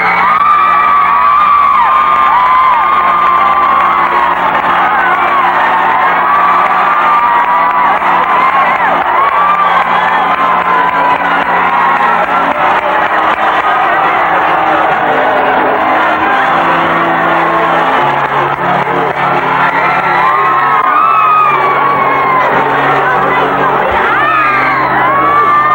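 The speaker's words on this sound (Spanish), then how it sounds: "Tras largos aplausos de bienvenida a territorio" A large crowd cheers, whoops and shouts in a long, loud, sustained roar welcoming US President Bush on his arrival in Panama, with children's yells and band-like tones woven through the din.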